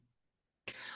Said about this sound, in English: as soon as I mention it, I start coughing